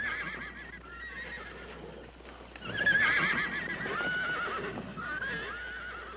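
Several horses whinny and neigh in overlapping calls, with a soft clatter of hooves underneath, heard at a moderate distance.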